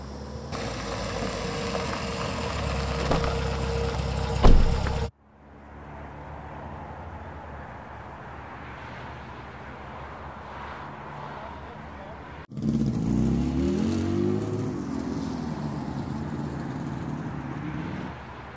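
A car engine runs at idle close by, then cuts to a quieter rumble and returns louder with a rising engine tone as the vehicle pulls away.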